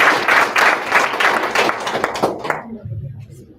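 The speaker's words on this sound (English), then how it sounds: "Round of applause for Ava." Spelling bee audience applauding a contestant, a loud burst of many hands clapping that thins out and fades over a few seconds, with a low voice briefly under the tail.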